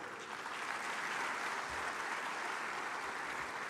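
An audience at the 30th Afreximbank Annual Meetings in 2023 applauds Ghana's President Nana Addo Dankwa Akufo-Addo, a quiet, even wash of many hands clapping heard from a distance throughout.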